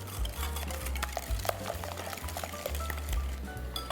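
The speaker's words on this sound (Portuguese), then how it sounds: "misture bem aí os ovos e o açúcar para que ele fique bem aerado" Eggs and sugar are whisked together in a bowl for a lemon cake batter, a continuous scraping and sloshing stir with small clinks, near and moderately quiet with no talk.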